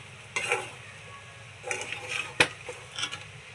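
Rice with onion, tomato, dried red chilli and lemon seasoning stirred in a pan, with several scraping, rustling strokes of a spoon against the pan at an uneven rhythm, close and moderately loud.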